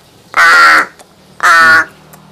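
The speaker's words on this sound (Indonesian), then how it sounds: "burung gagak itu dikit-dikit berisik" A large black pet crow gives two loud, harsh caws close by, each about half a second long with a short pause between them, and nothing else is heard.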